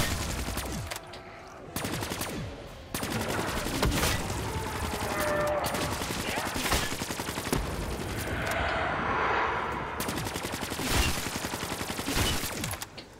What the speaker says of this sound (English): I'll start using the Annihilator pistol.